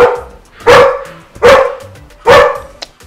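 Three loud, close barks from a nano exotic bully dog, spaced evenly about a second apart, with a short higher yip at the end.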